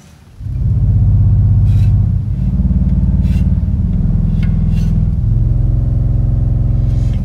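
Lowest note of a 32-foot Ophicleide pipe organ stop: a loud, deep, rumbling reed bass that sustains steadily for several seconds with slight shifts in the tone, like a heavy truck engine.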